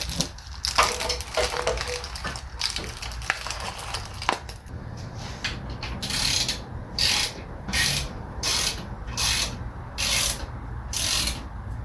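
Someone tightens the valve cover bolts on an SBC 350 Vortec engine with a ratchet. Scraping and rubbing come first, then a run of sharp, evenly spaced ratchet clicks, loud and close, with no talking.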